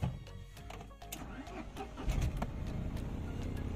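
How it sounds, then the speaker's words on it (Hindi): A Tata Nano's engine starts and is revved with the throttle, the exhaust silencer note rising into a steady rumble after a few sharp clicks and knocks, heard up close but at low volume. "आपको एक बार थ्रॉटल खींच के दिखाई देता हूँ,"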